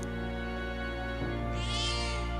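A cat in the video game Metaphor: ReFantazio gives one clear meow over a steady background music bed, rising midway and fading at the end.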